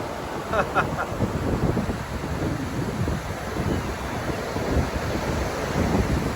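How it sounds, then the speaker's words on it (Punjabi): High ocean waves at New Brighton beach roar and wash continuously, loud and near, with heavy wind buffeting the microphone throughout. "ਮੇਰੇ ਸਿਰ ਤੋਂ ਵੀ ਉੱਪਰੀਆਂ ਉੱਚੀਆਂ ਲਹਿਰਾਂ ਨੇ ਜਮਾ"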